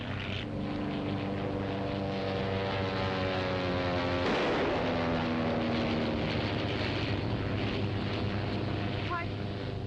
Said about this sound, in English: Todd, he's flying right by here.